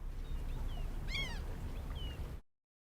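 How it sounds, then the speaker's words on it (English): Seagulls call over a harbor where a wooden boat sits at anchor, a cluster of sharp descending cries rising mid-clip above a steady low rumble of wind and water, with fainter distant calls before and after, then sudden silence. "Seagulls making their usual noises."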